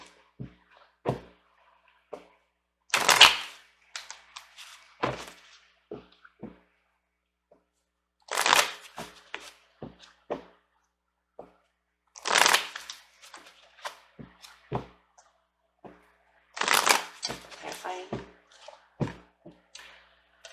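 Tarot cards being shuffled in a quiet room, crisp riffling bursts recurring about every four to five seconds, with soft taps and card handling between them and no talk.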